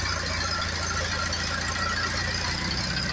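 An International 240 tractor engine idles steadily at close range, a continuous rough rumble with a faint mechanical whine, no voices.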